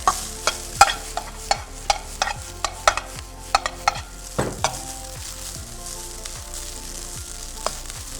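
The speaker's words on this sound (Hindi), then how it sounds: "जल्दी से सौते कर लेंगे इसको, तेज़ आंच पे करना है क्योंकि राइस ऑलरेडी बॉयल है" Already-boiled rice is sautéed over high heat, crackling with a steady sizzle while a utensil stirs and scrapes the pan in repeated sharp knocks.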